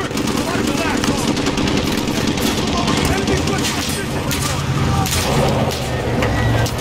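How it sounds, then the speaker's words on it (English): Enemy gunfire rattles in Modern Warfare, with dense bursts of rapid shots and occasional heavier thumps over several seconds while someone talks. "there's still that guy up there in that tiny hole shooting down on us"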